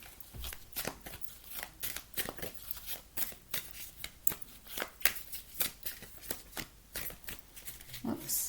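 A deck of oracle cards being shuffled makes a quick, rhythmic series of soft riffling and slapping bursts, close and fairly quiet, with no speech.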